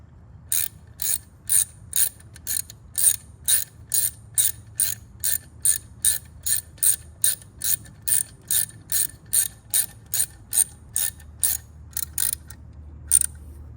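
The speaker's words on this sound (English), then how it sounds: "all we're gonna do is throw on this washer and put the bolt in" Ratchet wrench tightening a bolt with a washer on a Harley-Davidson motorcycle, about two dozen crisp, evenly spaced clicking bursts in a steady rhythm, close and loud over a low quiet background.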